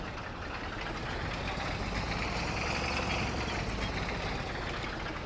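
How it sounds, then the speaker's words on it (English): A farm vehicle's engine runs at a steady idle-like rumble, a continuous mid-pitched drone with a faint knocking texture, moderately close and alone with no talk. "And over the noise of this engine"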